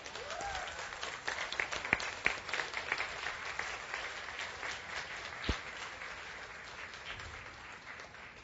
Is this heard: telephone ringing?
no